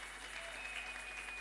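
A church congregation applauding to acclaim the Lord, a steady, fairly distant wash of many hands clapping together with no break.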